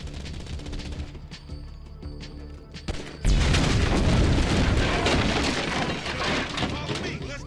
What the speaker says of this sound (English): Shoot that gas can. Shoot the gas can.